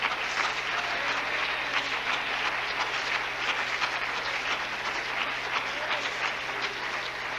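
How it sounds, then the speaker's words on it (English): A church congregation claps hands together for the whole stretch, a dense, even burst of applause over a low steady hum. "everybody clap their hands and praise the Lord"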